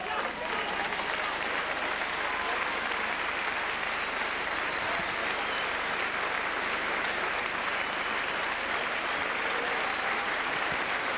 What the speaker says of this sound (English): gets the applause